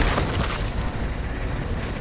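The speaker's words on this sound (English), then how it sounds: "But the explosion will get him." A deep, rumbling explosion in the video game Resident Evil 9 on Insanity Mode, a sustained booming roar that fills the whole moment at close range.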